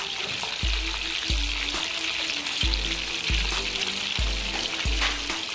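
Oil sizzles and fries in a pot being prepared for fish fillets, a loud continuous hiss with regular low thumps repeating roughly every half second.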